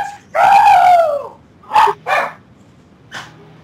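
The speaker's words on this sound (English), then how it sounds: "Oh, annoying dogs." Dogs barking in a Roblox survival game, a long drawn-out bark followed by several shorter yelps, loud and close with gaps of quiet between.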